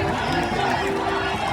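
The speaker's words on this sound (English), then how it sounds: "His crowd's cheering for him" A crowd at the Glengarry Renaissance fair cheers and chatters in a dense, steady roar of many voices throughout, with no single voice standing out.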